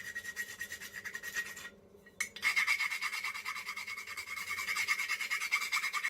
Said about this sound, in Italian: con una lima diamo una pulita ai bordi in modo da avere del metallo vivo